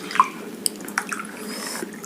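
Water poured into a glass in a classroom chemistry demonstration, with a brief splashing trickle and a few drips. It is close, fairly clear and heard alone.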